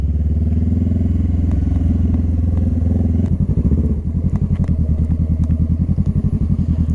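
A motorcycle engine idles loud and steady, then chugs with a pulsing, uneven throttle as the bike rolls down toward a picnic area, close and alone with light rattles.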